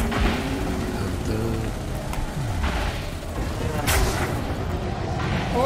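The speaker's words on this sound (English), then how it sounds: "I love these shotguns." Plasma shotgun blasts in the space game Elite Dangerous, heavy booming bursts layered over dense rumbling combat noise and a person talking throughout.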